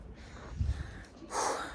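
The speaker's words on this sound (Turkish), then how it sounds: "nefes nefese kaldım." A person breathes hard in short, heavy gasps after climbing stairs at Marienberg Fortress, ending in a loud exhale.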